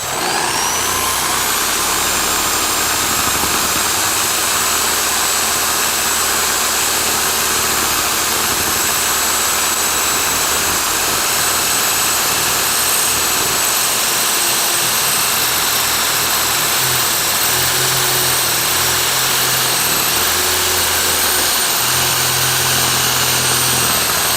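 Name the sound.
drill-mounted sander polishing a piece with 400 grit sandpaper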